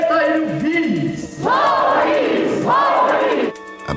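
Crowd in a hall roused by a sect leader, including many children, shouting and chanting in loud collective bursts with a leader's voice rising over them, swelling, dipping and swelling again before cutting off.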